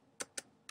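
A computer keyboard being typed on, with three crisp, quiet key clicks spaced unevenly in under a second.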